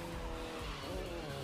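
A car in a GTA-style racing video game skids with a handbrake turn, giving a continuous tire squeal layered over engine noise for a brief, fairly quiet stretch.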